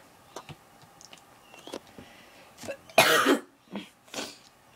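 A person coughs while playing Zoo Tycoon 2, with several faint taps and clicks before a loud, close burst of coughing, followed by two or three softer coughs.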